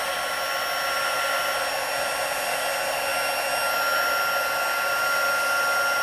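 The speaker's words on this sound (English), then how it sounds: "All right, so it's going to get loud for a second or two. Heat tool." A heat tool for heat embossing a card blows steadily, a loud, continuous hair-dryer-like whoosh with a faint whine, unchanging for several seconds with no talking.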